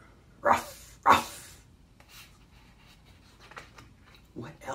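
A voice imitates a dog, with two sharp, loud bark-like bursts followed by softer growling and rough vocal noises during a children's storytime reading.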